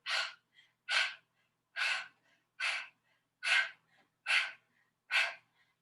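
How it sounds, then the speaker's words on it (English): Seven sharp, percussive breaths during a Pilates mat exercise, short forceful puffs of air in a steady even rhythm with tiny pauses between, close and distinct. "one more time, percussive breaths"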